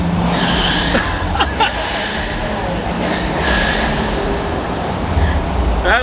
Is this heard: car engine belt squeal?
yes